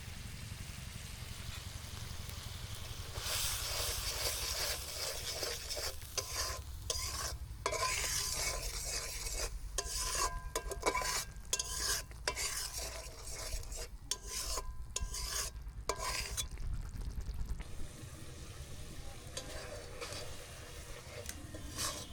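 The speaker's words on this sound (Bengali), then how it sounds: "মশলাটা কষানো হয়ে গিয়েছে" Ground spices with salt, chilli, turmeric and coriander being sautéed in a pan in a village kitchen, with steady loud sizzling and rapid, rhythmic scraping strokes of a spatula, close up and uninterrupted by speech.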